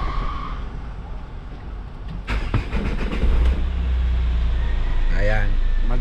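A Hyundai Grand Starex engine cranks briefly and catches, then settles into a steady low running rumble close by. A voice speaks briefly near the end.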